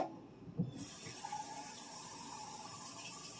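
Water is poured a little at a time into Bisquick dough for a Dutch oven shepherd's pie crust, a brief knock followed by a steady, fairly quiet running-water flow.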